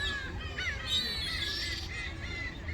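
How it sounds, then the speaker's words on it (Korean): Seagulls call at Eurwangni Beach in Korea, high squawks and cries drifting over steady surf and wind noise, with several overlapping calls at moderate distance. "어우 갈매기가 엄청 많네요"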